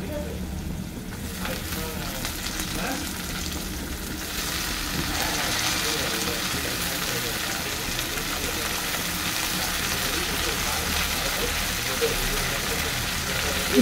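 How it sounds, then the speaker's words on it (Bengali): Poppy seeds and red amaranth greens fry in a pan, giving a steady, loud sizzle and crackle that stays dense and continuous, with a faint low hum underneath. "পোস্তটা হালকা ভাজা হবে, তারপর আমি দেবো শাকটা।"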